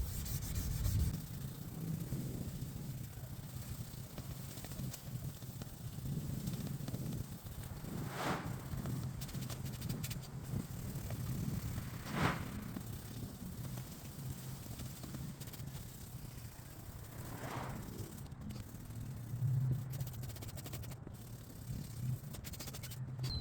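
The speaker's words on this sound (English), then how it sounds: "as I'm sanding, I'm looking for the scratches every time I spray the water" Wet sandpaper rubs back and forth on a faded, oxidized car headlight lens, with soft repeated scrubbing strokes that are quiet and close, with faint background noise and a few brief louder swipes.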